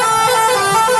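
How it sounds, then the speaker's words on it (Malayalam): A custom bus horn from the Bus Simulator Indonesia video game blares as one steady, loud, unbroken tone for the whole moment, with no other sound around it. "അപ്പോൾ ഞാൻ ജസ്റ്റ് ഇപ്പം ആഡ് ചെയ്ത ഹോൺ കാണിച്ചു തരാം."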